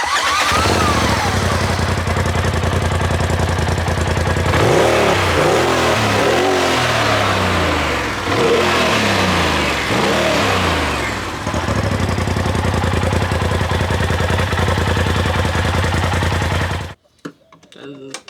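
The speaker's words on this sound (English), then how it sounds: "we're gonna turn it on, rev it up a little bit so you can hear how it sounds stock" A stock 2020 Polaris RZR XP4 Turbo side-by-side engine, with no blow-off valve fitted, idles loudly up close and is blipped through several rising and falling revs in the middle, then settles back before cutting off abruptly near the end.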